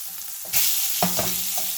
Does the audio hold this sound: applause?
no